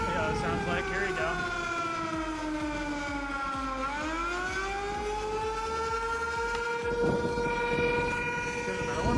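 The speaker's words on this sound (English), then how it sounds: "those that wanted to hear what the tornado siren sounds like, here you go." A civil defense tornado siren wails continuously, its pitch dipping and rising again in a long sweeping tone, loud and steady for the whole stretch.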